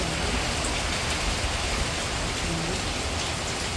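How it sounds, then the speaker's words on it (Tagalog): Heavy rain pours steadily at night during Typhoon Uwan, a dense, constant broadband hiss of drops on surfaces with no breaks, fairly close and unvarying throughout. "Kung kailan po madilim na at saka po malakas ang hangin at saka po ulan."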